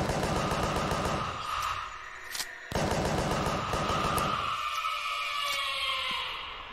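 Gunshots fired at Satan's heart in the horror game The Final One ring out in dense, loud volleys, with a brief pause and a sharp shot, all over a sustained droning, siren-like tone.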